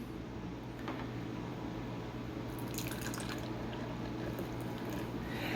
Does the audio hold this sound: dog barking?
no